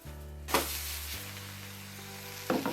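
Indian omelette with vegetables frying in a pan, a soft continuous sizzle close by with a couple of brief clatters as it is handled, over background music.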